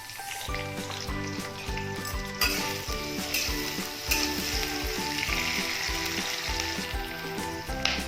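Onion frying in hot oil with cumin and chilli in a pan, a steady close sizzle with light rhythmic stirring and clinks throughout, no talk.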